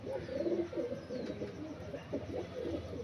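Pigeons coo steadily throughout, a dense overlapping murmur of low throaty calls close by, with no talking.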